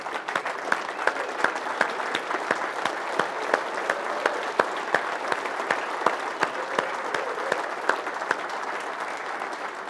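An audience rises in a standing ovation after a Controller Area Network class, giving steady sustained applause with dense clapping throughout, moderately distant and with no voices on top.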